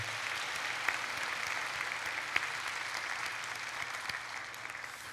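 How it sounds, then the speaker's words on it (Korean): Steady applause from a church congregation at an Easter service, filling the whole stretch, an even dense patter of clapping with a few sharper claps standing out. "우리 찬양팀에도 격려의 박수 부탁을 드리겠습니다."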